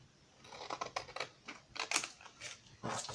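Paper being trimmed, a strip cut from a folded group of three for an accordion book: a run of close, crisp snipping and rustling bursts, uneven in rhythm, with no talking.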